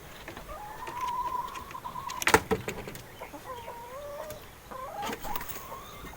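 Backyard chickens cluck and trill in drawn-out, wavering calls with a few sharper clucks between, faint and close-by in a quiet setting, with no talk.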